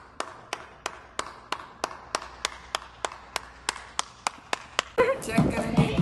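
Steady rhythmic clapping of about a dozen even beats sounds at a birthday surprise gift unboxing, then breaks off into louder, busier room noise with voices.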